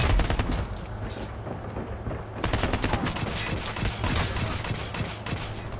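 Rapid bursts of video game gunfire from Call of Duty Mobile, dense and continuous volleys with the odd heavier crack, loud and steady throughout with no voice over it.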